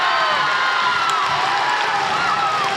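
At a senior boys' high school volleyball semifinal, a gym crowd sends up a sustained, dense roar of cheering and shouting after a big kill.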